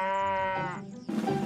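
A farm-animal toy game plays a cow call: a short, tonal electronic lowing sound that fades out, followed by a brief burst of noise.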